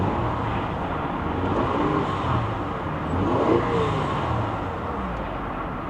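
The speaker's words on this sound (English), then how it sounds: "I'm going to give it a little rev." A van engine running after a battery boost, given a gentle rev that swells slightly and settles back, a steady close mechanical hum throughout with no talking.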